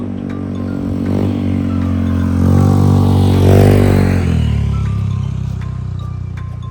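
A motorcycle engine labors up a hill climb near Laurel, Batangas, a loud steady drone that rises and swells in pitch mid-pass, then settles into a sustained rumble, close by and alone without talk.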